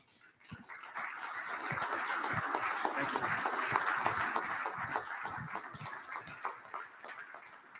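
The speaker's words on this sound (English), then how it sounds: "Round of applause, please." A banquet hall audience applauds an award winner at an annual awards dinner, with sustained, dense clapping from a large crowd that swells quickly, holds steady for several seconds, then thins out.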